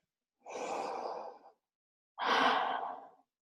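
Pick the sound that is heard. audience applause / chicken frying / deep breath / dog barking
deep breath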